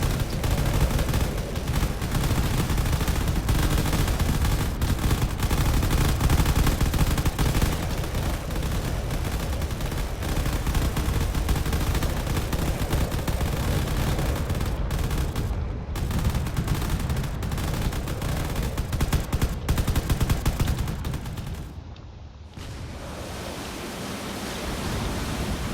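Dense, continuous cannon and gunfire rolls from ships battling in a desert level of the game Drone Wars, loud and rumbling with overlapping blasts, easing briefly near the end.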